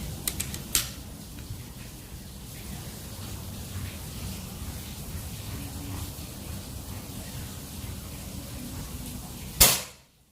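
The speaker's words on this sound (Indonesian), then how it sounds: "Tembakan ketiga." A PCP air rifle with a folding stock, army magazine and 30 cm seamless barrel fires a single sharp, loud shot near the end, a fainter click early on over steady outdoor background noise.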